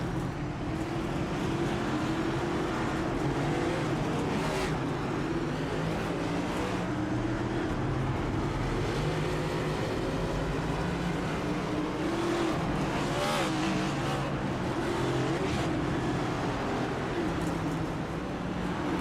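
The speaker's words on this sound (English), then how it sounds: "See all the cars rolling off pit road." Stock cars rolling off pit road at Charlotte Motor Speedway before a Coca-Cola 300 race, a steady, loud drone of many engines throughout with occasional louder passes.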